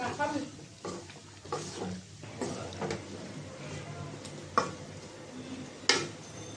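Taro stolons cooking with spices in a pan over a gas cylinder burner, giving soft sizzling with scattered clinks and scrapes of stirring and a few sharper knocks of a utensil against the pan, while a voice speaks quietly.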